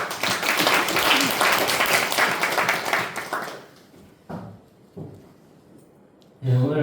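A church congregation claps during a worship service, a full burst of applause that fades after about three seconds, leaving a few scattered knocks before a voice begins speaking at the end.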